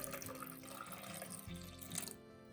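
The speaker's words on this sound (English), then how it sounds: "So I'm gonna add like a cup of water in there." A cup of water is poured into a blender holding a smooth blended vegan mixture, a quiet, steady splashing pour close by that tails off near the end.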